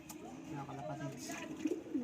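Racing pigeons give soft, low coos, faint and close, with a couple of brief calls near the end over a quiet background.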